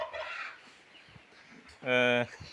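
A chicken, a free-range village hen being given feed, gives a short, loud clucking call near the end, after quieter rustling and faint bird sounds.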